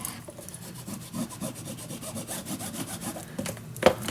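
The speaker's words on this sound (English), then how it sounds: "Let me burnish this down." A tool burnishes glued paper flat in a handmade Christmas mini album, making a close, rhythmic rubbing and scraping with steady back-and-forth strokes and a sharper scrape near the end.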